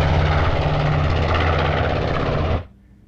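Loud, close roar of a World War Two B-25 bomber's propeller engines at takeoff, steady and droning before cutting off sharply to near silence.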